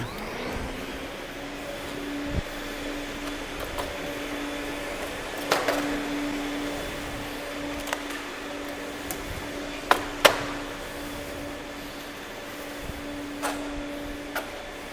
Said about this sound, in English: Fire up the vac.